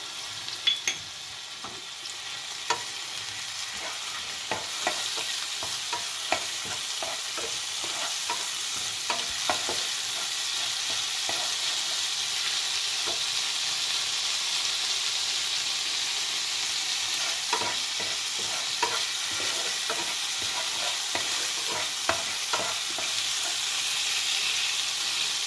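Cumin and ginger paste fries in oil in a pan for a peas kachori filling, giving a continuous soft sizzle broken by frequent light clicks and scrapes of stirring throughout.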